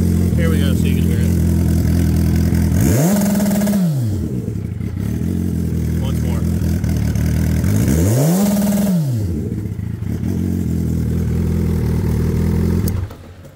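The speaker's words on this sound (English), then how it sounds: "Hayabusa two-step. Right now it's in first gear." A turbocharged 2008 Suzuki Hayabusa held on two-step launch control in first gear, a loud rapid popping limiter drone broken twice by sharp rising-and-falling revs, close and constant.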